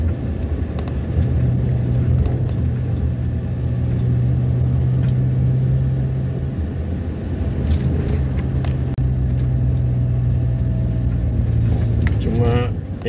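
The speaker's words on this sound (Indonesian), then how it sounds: "alhamdulillah masih ada mobil ya." A car drives along a newly built road through dense forest, its engine hum and tire rumble steady and close throughout, with light rattles and a rising whine near the end.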